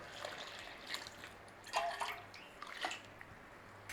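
Water and milk are poured into a bowl of oat flour, salt and yeast for havercake, giving soft close splashes and trickles in a few irregular bursts.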